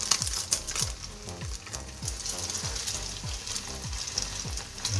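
A hot pan sizzles steadily during a Thai holy basil chicken stir fry as the food browns on its second side, with a series of rhythmic scraping strokes from a spatula over the frying hiss; no one speaks.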